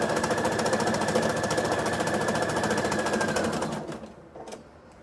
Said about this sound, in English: stretch behind the machine and in front, and go ahead and sew